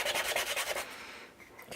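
Wood being sanded by hand for a box project, a steady rhythmic rubbing of quick back-and-forth strokes that is fairly close, then softens into lighter, slower scraping.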